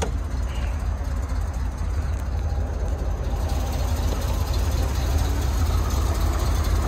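A 1971 Corvette engine idles steadily with a low, continuous rumble and a faint high whine, no voices, holding an even level throughout.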